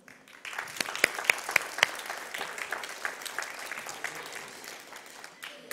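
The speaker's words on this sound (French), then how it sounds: "Je crois qu'il a encore besoin d'applaudissements." An audience applauds a demonstration by the ASIMO robot, with steady clapping from a moderately sized crowd that holds for several seconds before tapering off.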